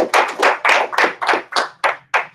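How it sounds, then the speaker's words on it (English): An audience claps at a motivational speaking event for Baron Warren, with about eight sharp, evenly spaced claps in a steady unison rhythm, close and loud, with no talking. "Y'all clap for me one more time."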